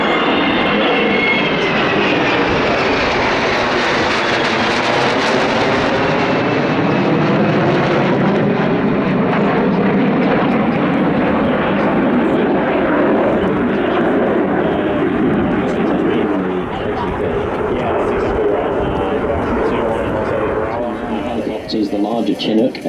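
Military aircraft flying past and coming in to land at the Avalon air show, a loud continuous roar of engines with a shifting, Doppler-like sweep, heard under a commentator's talk throughout.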